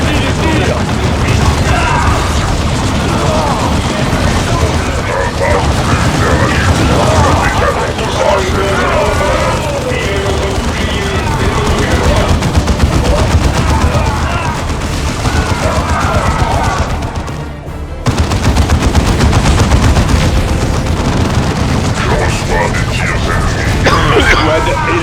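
Battle gunfire in the video game Dawn of War 2, a dense, continuous fusillade of cracks and booms mixed with explosions and game voices, loud and unbroken apart from a brief dip near the end.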